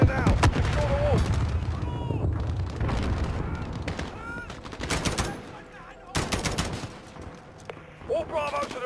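Gunfire from the Embassy level of Call of Duty Modern Warfare (2019), with repeated sharp shots and bursts at mid distance over a constant battle din, along with short radio-style voice calls.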